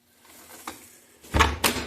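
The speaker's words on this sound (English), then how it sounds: "Oh no, that's just storm doors." Old storm doors in an aging house are handled, with faint creaks and thuds at first, then two louder bangs as a door swings and shuts near the end.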